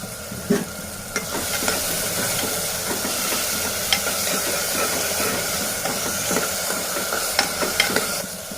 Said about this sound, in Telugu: ఇప్పుడు బాగా కలిపి మూత పెట్టేసుకోవాలి